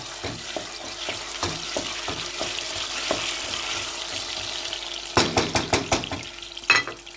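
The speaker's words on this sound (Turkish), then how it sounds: "Şimdi efendim şuradan bir yemek kaşığı salçayı da ilave ediyorum. Yine bu şekilde karıştıracağım." A spoon stirs tomato paste into a leek dish frying in oil in a pot, with a steady sizzle throughout and a series of scraping strokes toward the end.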